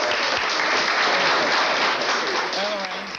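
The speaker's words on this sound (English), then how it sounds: "Dukakis was warmly applauded" Warm applause from a crowd greeting Michael Dukakis in Hartford, Connecticut, a dense, steady wash of clapping that holds strong before tapering slightly at the end, with a few voices calling out within it.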